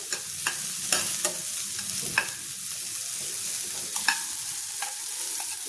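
Corn kernels and capsicum sizzle as they roast in a pan, with a steady fry hiss punctuated by several sharp scrapes and taps of a spoon stirring against the metal.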